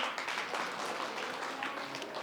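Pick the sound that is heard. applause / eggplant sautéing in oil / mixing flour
applause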